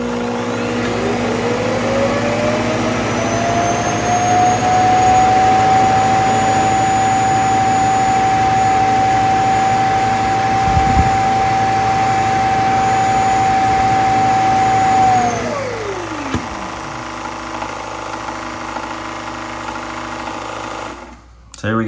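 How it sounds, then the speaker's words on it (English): Shark Matrix Plus robot vacuum docked on its base, emptying dirt into the bin: a loud, steady motor whine that rises, holds for about fifteen seconds with a high whistling tone, then winds down and stops. "So now it sucked all the dirt and stuff that was inside into the back of the base, into that bin back there."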